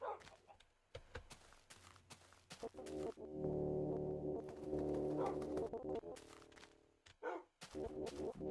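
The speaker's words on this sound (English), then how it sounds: "Wait, I hear my dogs." Dogs in a video game bark in a quiet scene, a cluster of low, hollow barks and cooing-like calls from nearby, with scattered short sounds around them.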